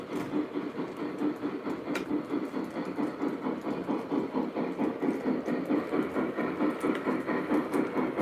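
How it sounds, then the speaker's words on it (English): A B6 steam locomotive chuffing at close range, a steady rapid rhythmic exhaust beat that runs continuously and loud throughout, mixed with mechanical clatter and no voices. "just listen to the B6. Just has a great chuffing sound."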